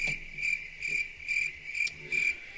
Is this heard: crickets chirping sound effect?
yes